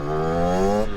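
A 50cc moped engine accelerating, a close, loud buzzing whine whose pitch climbs steadily over a second before cutting off abruptly.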